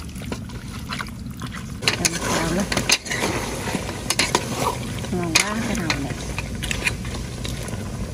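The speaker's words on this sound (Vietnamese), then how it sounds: "Bây giờ mình xào lên thơm chao quá." Duck pieces stir-fried with fermented tofu (chao) and garlic in a hot pan, a steady sizzle with repeated scraping and stirring strokes of a utensil, close and loud, while someone talks over it.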